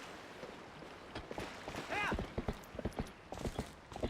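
Epona the horse trots in Zelda: Twilight Princess on the Wii, a quick run of crisp hoof clops rising after a brief whinny-like tone, with game ambience underneath.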